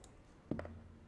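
A single sharp computer mouse click in PowerPoint, close and quiet, over a faint steady background hum.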